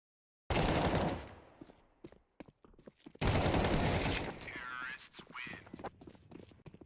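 Rapid gunfire bursts in a Counter-Strike esports match, sharp loud volleys in two main clusters with scattered single shots between, under continuous caster commentary.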